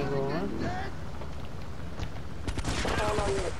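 Rapid shotgun and gunfire bursts in GTA 3 Definitive Edition, a loud clattering volley of shots with a voice talking over the start and end.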